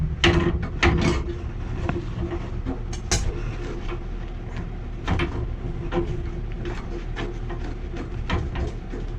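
A gas pipe fitting on a new furnace is unscrewed with a wrench, giving close, irregular metallic clicks and ratcheting scrapes over a low steady hum.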